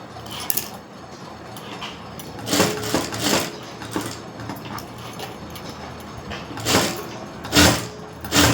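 Sewing machine stitching the back neck of a garment in several short bursts separated by pauses, with light handling clicks and rustles between runs, nearby and moderately loud.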